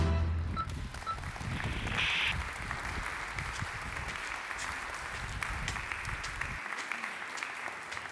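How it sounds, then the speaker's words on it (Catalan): Audience applause at a live Catalan comedy theatre show, a steady sustained clapping that fills most of the stretch before dropping away near the end. "Un fort aplaudiment."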